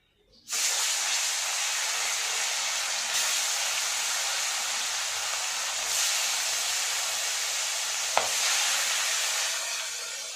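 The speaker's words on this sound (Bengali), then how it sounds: "আমার তেলটা গরম হয়ে গেছে। এবার আমি মাছগুলো ভেজে নেব।" Fish sizzling steadily in hot oil in a pan, a loud continuous frying hiss that starts abruptly and holds for about ten seconds, with a single brief clink partway through.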